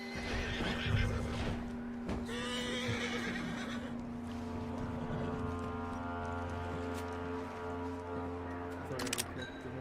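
A horse in the Red Dead Redemption 2 video game gives a loud, close whinny, followed by clip-clopping hooves under a steady in-game hum and music, with a sharp click near the end.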